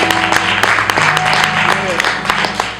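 Church congregation clapping along in praise during a lively service, rhythmic hand claps mixed into loud music and a voice, with the clapping partly buried under the sound of worship.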